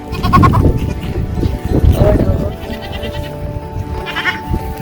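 Goats bleat nearby on a farm, with several wavering calls spread over a few seconds against a light background of movement and noise.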